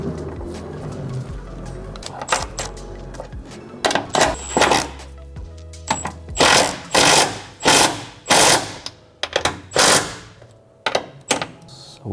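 Top bolts being tightened on an air suspension strut of a Dodge Challenger, with a series of close metallic ratcheting bursts and clicks that repeat in quick, uneven clusters and no voices.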